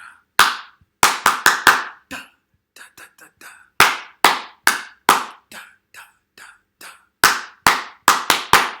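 Rhythmic hand clapping comes in short, sharp groups of close, loud claps in a steady call-and-response pattern, with brief quiet gaps and a few softer taps between bursts.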